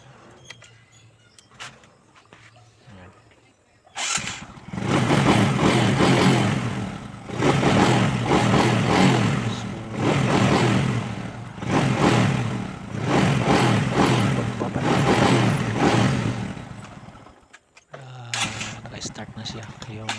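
A vehicle engine running after its voltage regulator was replaced, a loud steady mid-pitched idle that rises and falls in a few revving swells for about thirteen seconds before cutting off, with faint talk before and after.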